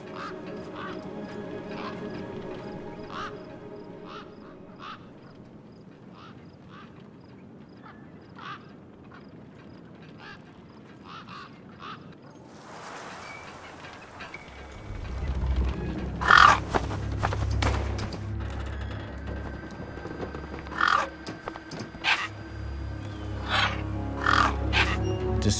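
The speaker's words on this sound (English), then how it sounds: "Then, I heard them. Gang birds, scavengers" Scavenging gang birds in the wasteland of the video game Beyond a Steel Sky: repeated harsh caws and squawks, sparse at first over a low ambient drone, then louder and busier over a rumbling bed.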